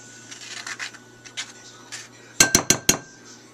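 A spoon scoops ripe avocado flesh from its skin for guacamole: soft scraping scuffs, then four sharp metallic clinks close together near the end.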